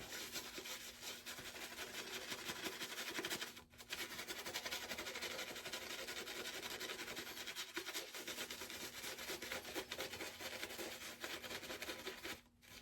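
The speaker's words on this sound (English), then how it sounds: "Use my beard to help lather it up." Close, steady brushing and rubbing strokes as shaving soap is lathered on a beard, a soft bristly scrubbing that continues with a brief pause, quiet and without speech.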